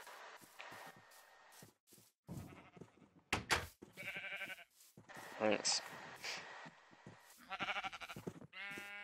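Sheep in a video game bleat repeatedly in short, nasal calls scattered across the scene, mixed with lively talk from several players throughout.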